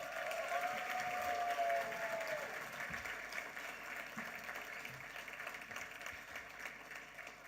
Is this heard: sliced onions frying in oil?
no